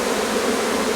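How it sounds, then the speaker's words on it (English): A dense, steady swarm of honeybees drones loudly and continuously close by while being shaken out of a hive built in a bunch of bananas, with no speech. "Bees are cleaning the honey off the camera."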